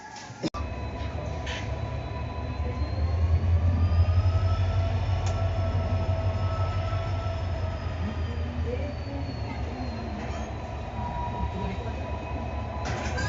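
A large train standing at Damodar station rumbles steadily nearby, with low engine drone and faint squealing tones from the wheels, continuous throughout with no talking.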